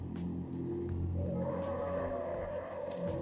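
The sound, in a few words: car driving in video game CarX Street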